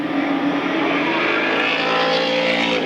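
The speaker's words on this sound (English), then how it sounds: "There you see Thomas heading into the pits" A race car at a short-track speedway in Plattsburgh, New York, in 1994 drones loudly and steadily as it heads into the pits, with a sustained engine note and no talk over it.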